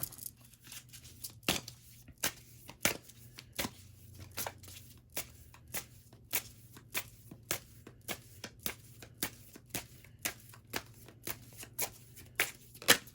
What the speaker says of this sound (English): Okay, so them cards were flying, okay? Those cards was flying.